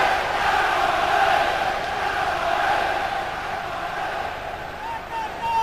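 Football stadium crowd at a 1997–98 UEFA Cup last-sixteen match, Aston Villa against Steaua, a steady, full roar that rises and falls slightly, with a voice talking over it throughout.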